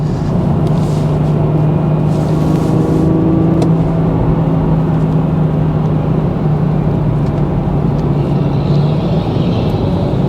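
A 2019 BMW 440i xDrive with a six-speed manual gearbox drives on the road, its engine droning loud and steady from inside the cabin, the pitch rising and falling slightly through downshifts over constant road and wind noise.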